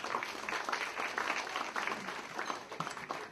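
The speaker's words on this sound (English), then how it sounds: "So a round of applause to them as well." Applause from an audience at a women's center event, with steady clapping from many hands, moderately close, holding for a few seconds without a break.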